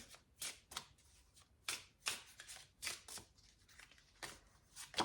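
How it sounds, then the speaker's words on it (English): Tarot cards are shuffled and dealt in quick, crisp flicks and slaps, about a dozen short bursts at an uneven rhythm, close and quiet with no talking. "Then we're going to get 6 of these tarot cards for our third layer."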